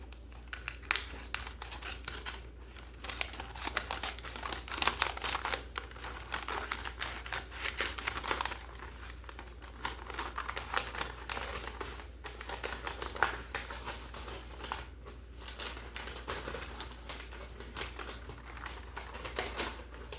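Christmas wrapping paper is handled, folded and cut while double-sided tape is folded over, giving continuous close crinkling and rustling with scattered sharp crackles and snips, moderately quiet and with no talk.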